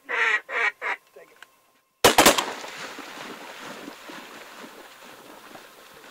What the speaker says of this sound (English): That was a big mallard right there,